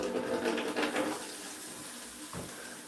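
Water running from a tap to top up a potted plant indoors, a steady close hiss and splash that tapers off over a few seconds, with a brief low knock near the end.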